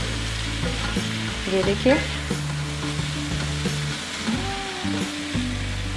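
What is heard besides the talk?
stir-frying egg fried rice ingredients on medium heat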